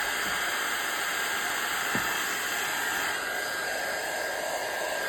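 A hair dryer blows steadily and loudly throughout, drying a painted craft background for a die-cut art junk journal, with a constant airy whoosh and no pauses.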